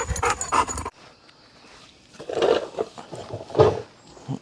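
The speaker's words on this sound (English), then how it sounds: "play with Rebel Dog for a minute" A dog pants in short, breathy bursts while playing near a truck and boat, starting close and loud, then going quieter and picking up again in a few heavier puffs.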